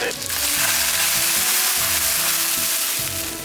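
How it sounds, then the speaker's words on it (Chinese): Fish bones pan-frying to golden for soup, a loud dense sizzle and crackle filling the space steadily from start to finish, close and continuous. "鱼骨煎到这样2面金黄就可以了"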